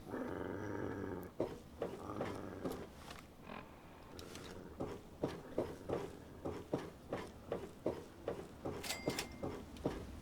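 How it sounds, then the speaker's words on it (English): Dogmeat the dog growls in Fallout 3, a low rumbling growl at the start followed by a run of soft, rhythmic padding steps, fairly quiet. "Hey, dog meat. I completely forgot that you were here."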